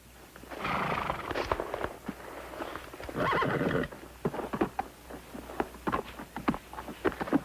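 A horse whinnies loudly twice between a steady run of clip-clopping hooves during a daily workout, the hoofbeats close and irregular, with no talk.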